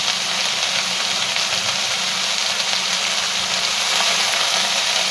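Washed spinach and eggplant hit a hot pan, giving a loud, steady, hissing sizzle of steam and frying that holds unbroken from start to finish with no talking.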